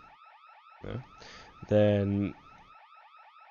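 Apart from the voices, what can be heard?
bank alarm going off in a Roblox bank robbery video game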